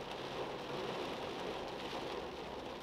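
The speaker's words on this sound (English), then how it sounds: "This is a pretty hefty storm right now." Heavy rain pours down steadily during an intense thunderstorm in Scranton, a dense, unbroken roar of close, loud downpour with no voices.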